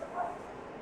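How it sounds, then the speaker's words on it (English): A dog in a home garage workshop gives a short, muffled bark from some distance, heard once over low background noise. "Dog's barking."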